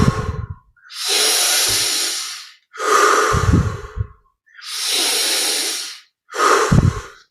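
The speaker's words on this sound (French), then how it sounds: "essayons d'aller au maximum dans chaque inspire" Deep, slow breaths drawn in and let out during a meditation breathing exercise, close and loud, long airy inhalations alternating with shorter exhalations in a steady rhythm, no speech.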